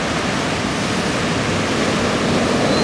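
Waves breaking at Anglet beach make a steady, dense roar of surf that fills the whole moment, loud and continuous with no distinct single crash or voices.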